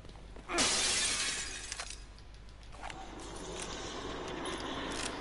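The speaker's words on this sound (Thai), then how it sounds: "กูไม่น่าทำเสียงกระจกแตกเลย" Glass shatters loudly in the horror video game The Evil Within, a sudden close crash followed by a lingering tinkle of falling shards over a low, eerie game ambience.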